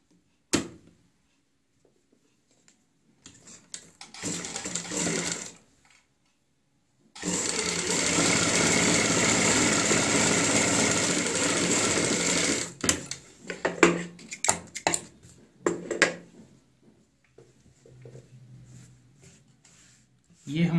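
A sewing machine stitches a kurti in one sustained run of about five seconds, preceded by shorter bursts and followed by brief stop-start stitching, with someone talking between the runs.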